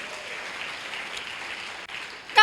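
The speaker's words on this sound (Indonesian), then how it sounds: "Tepuk tangan untuk Tuhan Yesus." A church congregation at a Thursday service claps together, a soft, distant wash of applause that stays even and fairly quiet, with a sharper sound right at the end.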